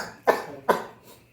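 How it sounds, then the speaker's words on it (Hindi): Two sharp, close coughs from a man about half a second apart, the second slightly weaker, followed by quiet, with no talking in between. "देखिए खाने के नाम पे खांसी आ गई"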